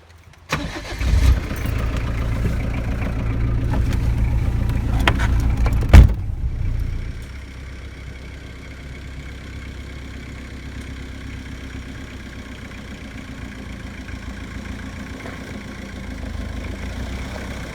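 A Jeep XJ engine cranks and fires up off-road, revving loudly for several seconds with a sharp bang near the end, then dropping to a steady, quieter idle that runs on.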